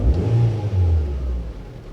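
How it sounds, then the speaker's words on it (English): A Ford Fiesta ST150 engine running at a smooth, steady idle while warming up, giving a continuous low rumbling hum with no talking. "I'm just waiting for it to come up to temperature now. I'm checking everything, so we've got a nice smooth idle."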